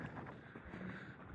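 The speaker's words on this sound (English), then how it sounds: "It is a little bit windy" Wind gusting across an open Nevada desert site among tufa rock formations, a steady low rumble buffeting the microphone throughout, loud and close with no other clear sounds.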